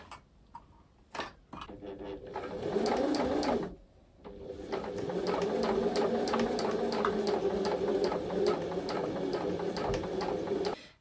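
A sewing machine stitches two fabric panels together, running in a short burst, pausing briefly, then humming along in a long, steady, close-up run of rapid needle ticks.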